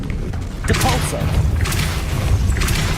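The Depulso spell from the video game Hogwarts Legacy lands as a loud, dense thumping burst of magical force over continuous busy game noise, lasting a few seconds.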